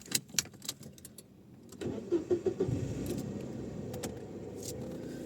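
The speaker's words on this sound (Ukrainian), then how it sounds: "Почекаю пару хвилинок, хай машинка прогріється" A car engine starts after some clicks and key jingles, then settles into a steady low idle close by as it warms up.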